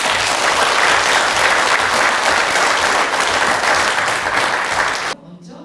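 A forum crowd gives warm welcoming applause for a guest speaker at a lecture event, a loud, thick, continuous roar of clapping that cuts off abruptly near the end.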